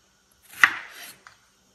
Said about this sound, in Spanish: Y estas que están más grandes las vamos a partir por mitad.